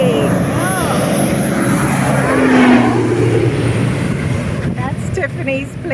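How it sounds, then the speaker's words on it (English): A small propeller plane takes off from a jungle airstrip in Guyana, its engine droning loudly and steadily while people talk close by. "That's Tiffany's plane and we're going to follow"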